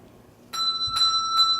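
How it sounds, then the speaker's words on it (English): A handbell rung in a bell class: three clear metallic rings with sustained ringing tones, struck in a slow, even rhythm, close and moderately loud. "What's the matter with that bell? I'm just not getting a ring out of this at all"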